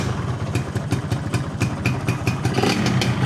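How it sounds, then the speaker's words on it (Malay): A Yamaha 125ZR two-stroke motorcycle with its standard exhaust idles close by, giving a rapid, uneven put-put with clattery ticks and slight wavering in engine speed. "Kita terus start dan kita dengar betul lah exhaust standard."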